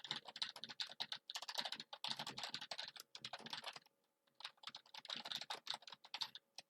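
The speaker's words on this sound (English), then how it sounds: "hopefully my keyboard isn't as loud" Computer keyboard keys clatter in quick, dense bursts of close, crisp clicks, broken by one short pause in the middle, with no voices.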